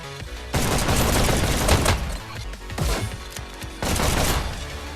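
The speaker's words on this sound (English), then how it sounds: "Hyperdash's audio design could be simply titled Synthwave, Laser Blasts, and Squeakers" Rapid bursts of synthetic laser blasts and booming fire from the arcade shooter game Hyper Dash, dense and loud in several volleys, with no talking.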